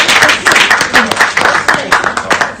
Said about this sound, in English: every single last person in this room should give themselves a round of applause for being who you are